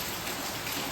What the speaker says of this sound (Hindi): बारिश चल रहा है लगातार।